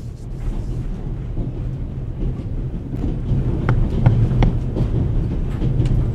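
Steady low rumble of a moving train, the Orient Express in the point-and-click game The Raven, with rolling wheel noise and faint clacks and rattles throughout, continuous and moderately loud with no talk.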